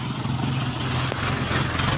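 A vehicle passes on a newly cemented road in Ubay, a steady engine rumble with broad road noise holding at moderate loudness throughout, with no talk over it.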